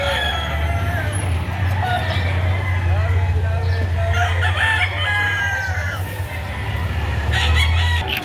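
Roosters crowing at a chicken market in Padre Garcia, Batangas, several drawn-out calls at middle distance over a steady crowd and traffic hum, with people talking nearby.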